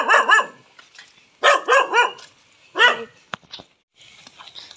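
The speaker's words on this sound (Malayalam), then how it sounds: "അടുത്ത വീട്ടിലെ മാർജാരൻ കുരയ്ക്കുകയാണ്." A neighbour's dog barks close by in three quick bursts of two or three yaps each, with short pauses between and a faint yip at the end.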